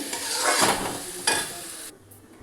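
Spice masala is stirred and fried in a pan, giving a loud, close sizzle with two scraping sweeps of a spoon before it suddenly quiets near the end, with no talk.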